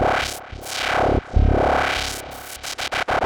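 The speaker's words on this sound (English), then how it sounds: "Let's give it a little bit of a delay. Let's go with ping pong." A bright FM synthesizer lead tone on a Fred's Lab Manatee plays sustained notes with ping-pong delay echoes bouncing back, then breaks into short staccato repeated notes toward the end.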